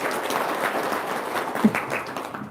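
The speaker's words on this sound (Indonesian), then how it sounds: "Tepuk tangan dong, luar biasa." An audience gives a brief burst of applause, a soft, scattered clapping at moderate distance lasting a couple of seconds.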